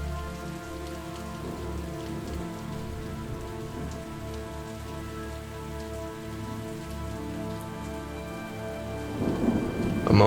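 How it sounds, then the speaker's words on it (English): Heavy rain pours steadily with rolling thunder rumbling beneath it throughout, swelling louder near the end, with no voices. "A moment passes as the rain soaks the both of you"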